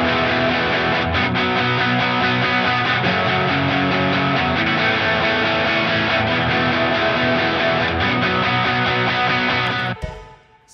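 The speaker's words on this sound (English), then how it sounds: "So that's the rhythm guitar. It's a very like rocky kind of powerhouse guitar." Distorted rock rhythm electric guitar playing a dense, powerful part alone and loud for about ten seconds, then cutting off abruptly near the end.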